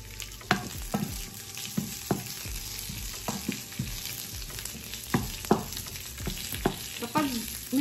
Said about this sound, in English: so ginigisa lang natin guys hanggang sa lumabas na yung fats from the chorizo